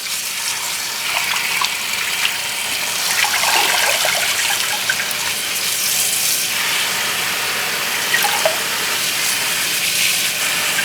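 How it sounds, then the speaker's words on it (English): A kitchen tap runs steadily into a sink, rinsing curly parsley, a continuous bright splashing and gushing close by that shifts slightly as the leaves move under the stream. "I'm going to turn on the water here."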